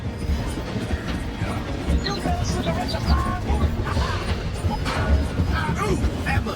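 A train runs on rails in the video game Red Dead Redemption 2, a continuous low rumble with clattering and metallic squeals, while voices talk over it.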